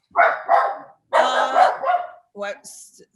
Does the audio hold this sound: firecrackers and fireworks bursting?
no